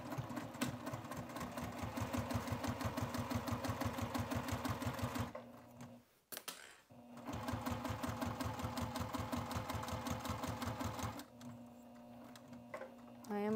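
Sewing machine stitching a 3/8 inch seam on a foldover bag exterior, a rapid even needle rhythm close up in two long runs separated by a brief stop and rustle, then quieter after.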